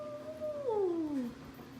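A pet cat gives a single drawn-out meow that slides downward in pitch, close and moderately loud in a quiet indoor room with no talking.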